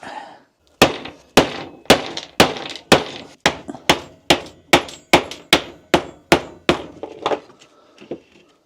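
A small hammer knocks out a bearing on a thickness planer, striking metal about fifteen times in a steady, evenly spaced rhythm, sharp close knocks that soften toward the end.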